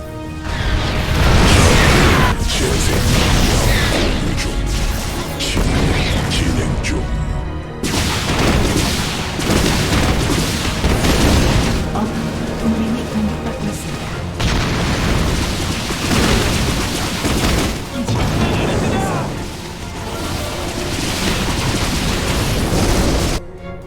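Repeated booming explosions from a StarCraft II air strike in a Protoss co-op mission, heavy blasts and bursts following one another loudly and continuously, mixed with dense gunfire-like battle noise throughout.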